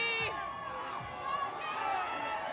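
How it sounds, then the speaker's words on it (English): Warriors fans at a victory parade cheer and shout together, a dense, steady roar of many voices with whoops and children's shouts rising over it. "Fans are going crazy."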